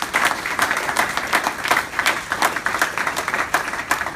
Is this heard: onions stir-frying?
no